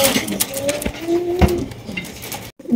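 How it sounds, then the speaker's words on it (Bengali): White beauty pigeons cooing at a busy pigeon market, a few soft close rolling coos with light clatter and faint voices in the background, ending in a brief cut to silence. "দেখেন এখানে কিন্তু চমৎকার এক জোড়া বিউটি কবুতর, হোয়াইট কালারের বিউটি"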